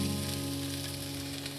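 Onion and garlic sizzle in a hot frying pan, a steady close hiss with a low hum beneath, alone with no voices.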